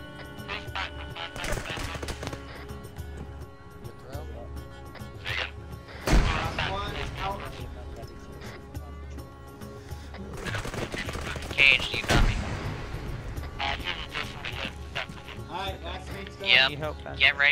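Bursts of automatic gunfire inside a small room of a mosque during an Arma 3 military game mission, loud sharp volleys repeating across the clip over a steady game soundscape and voices.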